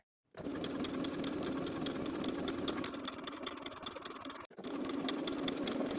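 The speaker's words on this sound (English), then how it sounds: "Edge stitch the open folded edge of the tie from one end to the other." A sewing machine edge stitching the folded edge of a blouse tie piece, running in a fast, even mechanical whir with rapid needle ticks, close and steady, stopping briefly once before resuming.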